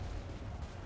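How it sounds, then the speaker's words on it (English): Gunfire in Assassin's Creed III rumbles as a dense, continuous barrage of distant booming shots, heavy in the low end and steady throughout the moment. "Incoming fire! They're firing!"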